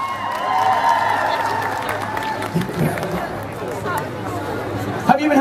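Indoor audience applause at a charity event, with a dense wash of clapping mixed with crowd chatter and talking throughout, moderately loud and fairly close.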